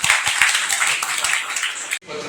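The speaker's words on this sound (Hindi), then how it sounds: "जरा जोरदार तालियां बजा लो" Audience applause at a flag-hoisting ceremony for journalists, a dense wash of many hands clapping that fills the scene, then cuts off sharply near the end as a quieter room tone takes over.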